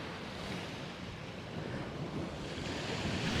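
Steady surf and gusting wind fill a weed-covered beach beside a small camping area at Tractor Beach, a broad continuous wash of breaking waves with rough wind buffeting the microphone, swelling slightly louder toward the end.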